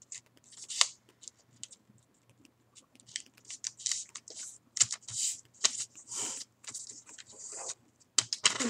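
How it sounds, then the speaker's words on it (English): Square origami paper is folded and creased for a 3D koi fish model. Close, crisp crinkles and sharp rustles come in irregular bursts, with short pauses between folds. "you fold across from one straight side to the other"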